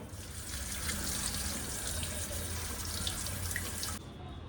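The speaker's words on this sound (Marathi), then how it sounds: "ही मेथी आहे मी निवडून घेतली आणि आता ती मी स्वच्छ धुवून घेते" Fenugreek leaves are washed under a kitchen tap, giving a steady close hiss and splash of running water that stops abruptly near the end.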